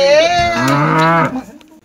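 A buffalo lets out one loud, drawn-out moo lasting about a second and a half, close and alone, then fading away.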